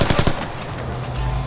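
Rapid automatic gunfire bursts in a Splinter Cell Blacklist multiplayer match, a quick string of close, loud shots followed by a sustained game-ambience hum.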